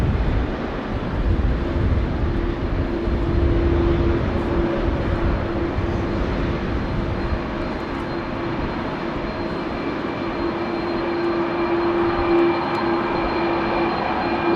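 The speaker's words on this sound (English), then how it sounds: "CF6s, that is a KLM A330 that is beginning its taxi" CF6 engines of a KLM Airbus A330 beginning to taxi at windy Amsterdam Schiphol Airport, a steady loud jet roar with a sustained whine, heard from a distance over wind noise.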